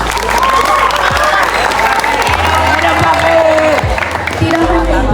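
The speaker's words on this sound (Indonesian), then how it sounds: "Silakan untuk memberikan apresiasi dan tepuk tangannya." A school crowd applauds student council candidates at a junior high in Bandung, loud and continuous clapping with some cheering, with a low rumble and sliding tones underneath.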